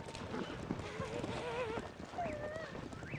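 Horse hooves clip-clop steadily as a mount trots in Zelda: Tears of the Kingdom, the rhythmic footfalls sitting under continuous talking and game sound throughout.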